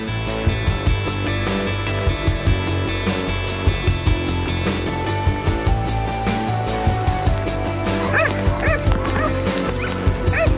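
Dogs at a canine sports club bark, yip and whimper repeatedly, loud and close, in irregular bursts over a constant background hum with faint whistle-like tones.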